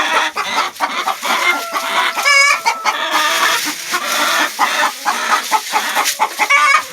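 Backyard chickens cluck and chatter continuously at close range, with one louder squawk standing out near the middle.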